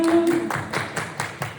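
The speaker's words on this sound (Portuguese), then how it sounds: "Muitas palmas." An audience claps in a quick, regular rhythm, about five sharp bursts per second, fairly loud and near, with a brief steady tone underneath at the start.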